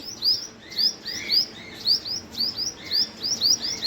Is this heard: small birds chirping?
yes